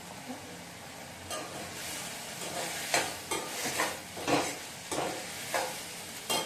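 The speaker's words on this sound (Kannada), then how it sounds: "ಈರುಳ್ಳಿ ಹಾಫ್ ಫ್ರೈ ಆದ ತಕ್ಷಣ ಟೊಮ್ಯಾಟೊ ಹಾಕಬೇಕು ಆ್ಯಂಡ್ ಟೊಮೆಟೊ ಸ್ವಲ್ಪ ಫ್ರೈ ಮಾಡಬೇಕು" Tomatoes fry with half-fried onions in a pan, a low sizzle broken by repeated louder bursts as the mixture is stirred and scraped.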